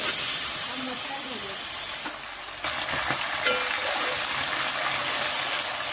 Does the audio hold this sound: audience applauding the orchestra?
no